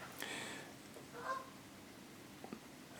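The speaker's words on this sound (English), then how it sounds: "that's geese going over." A few distant goose honks sound briefly from overhead, faint against quiet outdoor ambience, with a couple of soft calls trailing off.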